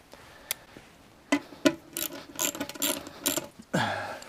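Hand ratchet driving a bolt on the rear fender strap of a Harley-Davidson Softail, a few scattered clicks at first, then a steady run of close, crisp ratcheting strokes ending in a dull thump.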